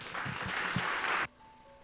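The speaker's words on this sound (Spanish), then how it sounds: "Dale un fuerte aplauso al Señor." A church congregation claps briefly, a short burst of fairly quiet applause that stops abruptly and leaves a faint hum.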